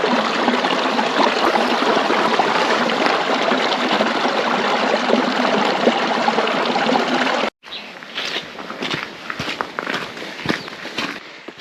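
A small stream of brown water runs steadily along a hiking route on the West Highland Way, a constant close trickling rush that cuts off abruptly, then gives way to quieter footsteps and light movement.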